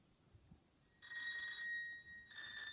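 High-register piano strings are set vibrating by small pager disc motors tucked between them, giving a buzzy, bell-like ringing tone that starts abruptly, holds for about a second, drops out and returns.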